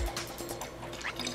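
Warm water is poured to mix a homemade all-purpose cleaner with white vinegar, making a soft, continuous splashing and trickling sound close by.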